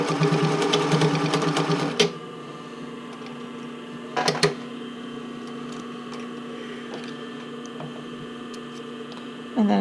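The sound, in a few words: sewing machine stitching a bra, back stitch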